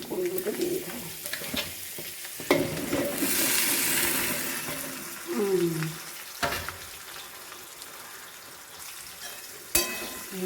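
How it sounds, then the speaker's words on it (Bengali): Dried red chillies and a bay leaf crackle in hot oil for jujube pickle, a sizzle that swells loudly midway, with spoon scrapes and short knocks against the pan around it. "তেল গরম করা হয়েছে এবার শুকনো লঙ্কা দিলাম"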